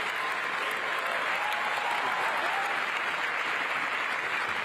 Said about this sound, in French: Le monde entier applaudit et se lève pour un accord historique.